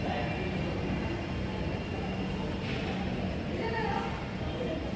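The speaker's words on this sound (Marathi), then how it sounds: "Mumbai metro line 3" An underground Mumbai Metro Line 3 train is in motion, its loud, steady rumble and roar filling the whole stretch without a break.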